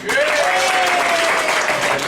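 A group in a meeting room bursts into loud, steady applause, many hands clapping at once, with a voice calling out briefly over the clapping.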